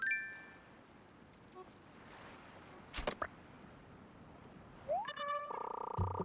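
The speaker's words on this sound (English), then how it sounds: "it's a rice grasshopper" A rice grasshopper in the Animal Crossing video game makes a soft, faint chirping, with a pair of short bright sounds midway and rising chimes and tones near the end.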